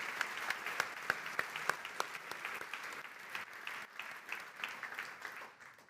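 Audience applause at a corporate customer success awards ceremony for map-making entries, a sustained patter of clapping hands with sharp individual claps standing out, moderately distant and fading near the end.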